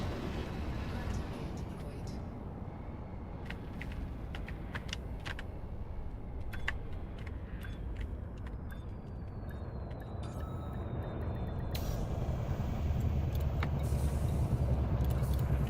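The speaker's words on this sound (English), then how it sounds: "The brakes on the Corsair sound very weird." A hissing mechanical brake burst and whirring engine tones sound from the Corsair spaceship in a game, with a voice talking over the steady hum.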